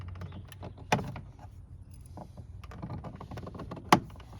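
A plastic trim removal tool prying loose the interior door trim of a 2007 Kia Sorento, giving two sharp plastic pops about three seconds apart over low handling rustle, close up.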